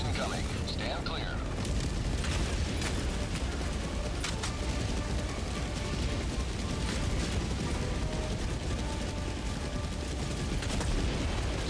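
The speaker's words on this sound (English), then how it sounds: "Orbital barrage incoming. Stand clear." Orbital barrage strikes pound a video game battlefield, a dense sustained rumble of booms and crackling impacts layered continuously over the full stretch, loud and steady, with game voice lines and a player talking over it.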